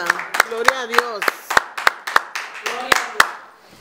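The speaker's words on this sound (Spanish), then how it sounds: "Dale un aplauso" Rhythmic clapping at a Spanish-language church service, sharp regular claps roughly every third of a second, mixed with a preacher's voice speaking and calling out over them.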